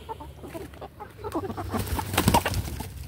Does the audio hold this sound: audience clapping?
no